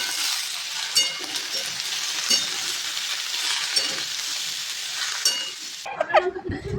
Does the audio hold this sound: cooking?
yes